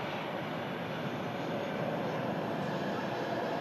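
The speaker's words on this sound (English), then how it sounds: "Qatar Airbus A350 coming in from Doha" A Qatar Airways Airbus A350 arriving from Doha at Manchester Airport: a steady, loud, broadband jet roar that holds evenly throughout with no break, heard alone.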